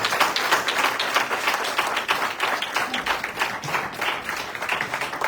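Church congregation applauding after a prayer service, a sustained round of many hands clapping at an even, loud level for several seconds, with no talk on top.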